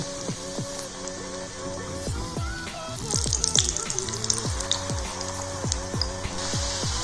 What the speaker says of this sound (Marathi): आता आपण तळून घेऊया मीडियम गॅसवरच आपण तळून घ्यायचं